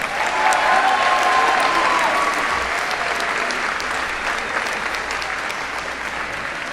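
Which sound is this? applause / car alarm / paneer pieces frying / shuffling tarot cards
applause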